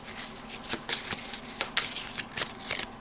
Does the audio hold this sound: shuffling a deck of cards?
yes